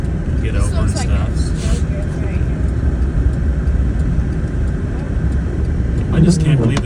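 A car drives slowly through deep snow on a rural road during a blizzard, with a steady low engine and tire rumble and muffled crunching throughout, close and continuous, while a person talks over it.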